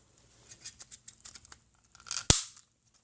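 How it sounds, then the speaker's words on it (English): Plastic tabs on a 2009 Can-Am Outlander ATV fuel pump tick and rattle softly in a run of small clicks, then a single sharp snap as the pieces lock together, heard up close and quiet. "until I hear that clicking sound."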